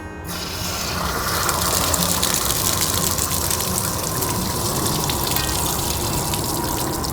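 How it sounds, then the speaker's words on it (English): Water gushes out of a horse trailer's hot water tank as its pressure is released, a steady, loud rushing stream that holds constant throughout, close by and alone. "You want to release the pressure on your hot water tank."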